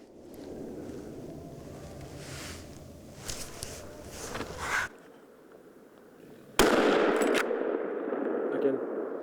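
Hunting rifle shots fired at a group of wild boars during a driven hunt in Hungary, sharp loud reports standing out against a steady outdoor background, with a gap of near silence between bursts.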